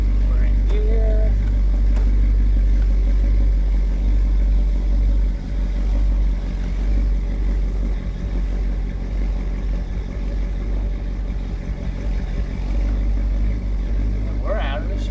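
A 1965 Chevy Nova wagon engine runs steadily in gear while the car pulls out of a shop, giving a constant low rumble close by with some mechanical clatter throughout.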